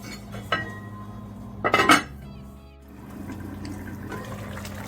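Water poured into a pot of Jamaican curry chicken with potato and carrot, a short splashing burst with clinks of the pot, then a quieter stretch of simmering kitchen noise.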